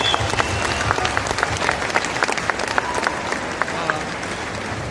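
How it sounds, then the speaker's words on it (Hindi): Applause from a large audience of some 14,000 people, dense sustained clapping that stays loud and even throughout, with faint crowd voices beneath. "सब लोगों के लिए जोरदार ताली हो"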